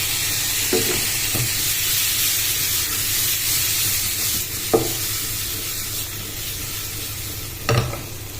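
Shrimp coated in paprika fries in a pan with mushroom and capsicum, giving a loud, steady sizzle and hiss broken by a few brief stirring knocks. No one speaks.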